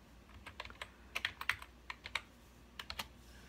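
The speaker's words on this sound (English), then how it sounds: "type in our password," Password being typed on a computer keyboard in a Mac terminal, a quiet burst of sharp, close keystrokes in uneven clusters with brief pauses between them.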